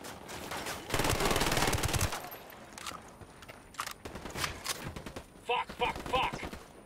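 Bursts of rapid automatic gunfire from a Kriss Vector in the video game Ghost Recon Wildlands, a loud sustained volley followed by shorter scattered bursts with a voice talking over parts of it.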